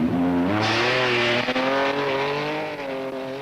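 A rally car in the 1968 Finland rally skidding with its front wheels locked, a loud, close engine note rising and falling alongside a broad tyre scrub, with no talk.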